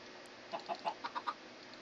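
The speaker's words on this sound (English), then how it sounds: "chicken" A chicken in Minecraft clucks quietly in a quick run of about six short clucks over a faint steady background hiss.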